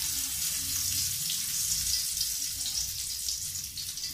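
Okra (ladies finger) frying in a hot pan, a steady close hiss and sizzle with no talk.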